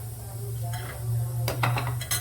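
Spoon clinks and scrapes against a metal pan while tempering spices for carrot chutney are stirred: mustard seeds, fenugreek, chana dal, urad dal, turmeric and cumin. Close, clattering strokes over a steady low hum, busier toward the end.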